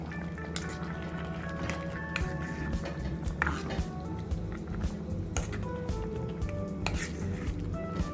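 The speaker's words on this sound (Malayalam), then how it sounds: "ഇതൊന്ന് മിക്സ് ചെയ്ത് കൊടുക്കാം." Spices being stirred into mango puli sheri in a pan, with close, irregular wet squelches, scrapes and soft clinks of a spoon against the pan, repeated throughout.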